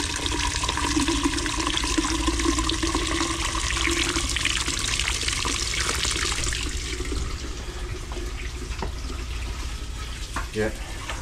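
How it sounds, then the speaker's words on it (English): Steady rushing of water flowing through a blocked drain by an outdoor gully, a continuous close splashing stream that eases slightly toward the end. "there's water coming through there"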